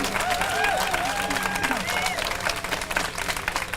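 A crowd at a Moral Monday rally in Charlotte breaks into applause, steady dense clapping with some cheering, while a voice speaks over the start.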